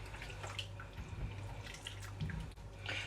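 Water is poured into a simmering bolognese sauce in a pan, a short close splash and trickle with faint kitchen clatter.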